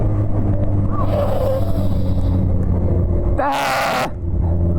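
A diesel vehicle engine drones close by with a steady, loud low rumble, broken near the end by a short rush of broadband noise.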